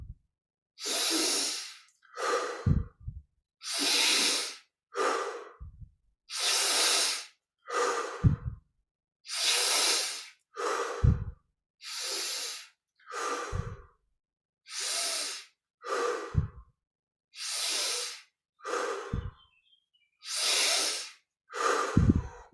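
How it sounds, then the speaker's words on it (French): Slow, deep yoga breathing, drawing air in through the nose and letting it out through the mouth, heard as about a dozen long, even breath cycles, close and clear, with brief pauses between them and no talk. "on inspire profondément par les narines. Expire par la bouche en laissant l'air sortir"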